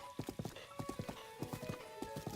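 Galloping horse hooves in The Legend of Zelda: Breath of the Wild, ridden through rain up a mountain: crisp, rapid, rhythmic hoofbeats, loud and close, with a faint tonal layer of game music behind.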